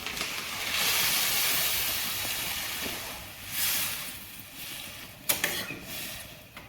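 Water poured into a hot egg and potato curry sends up a broad, steady hiss that swells and fades, followed by a few sharp clinks near the end.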